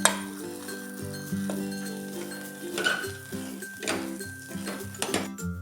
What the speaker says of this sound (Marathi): आता हा खवा आपण एकसारखा भाजून घ्यायचा, म्हणजे बुडाला लागणार नाही